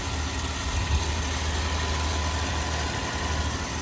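A Dodge Ram 1500 engine idles steadily with a low, even rumble and faint vibration throughout, no clear stumble or miss standing out.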